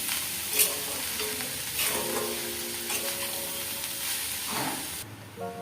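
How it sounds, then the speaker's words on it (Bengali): Ash gourd fries in a pan and is stirred, making a steady sizzle under repeated scraping and clinking from the spoon, close and continuous, with no voices. "ভালো করে নাড়াচাড়া করে নেবেন।"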